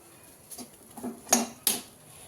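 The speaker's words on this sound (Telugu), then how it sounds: "ఇప్పుడైతే పాలు వేసుకుంటున్నాను" Milk going into a pan of carrots for carrot halwa brings a few metal clinks and clatters of a spoon or vessel against the pan, spaced irregularly and close, with no talk.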